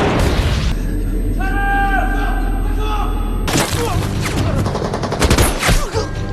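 Bursts of gunfire and heavy booms crash together in a chaotic, loud scene, with shouting voices mixed in.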